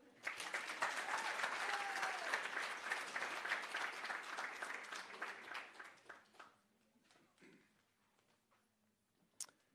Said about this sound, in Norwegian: Da vil jeg at dere gir en stor applaus til mannen med lommeboka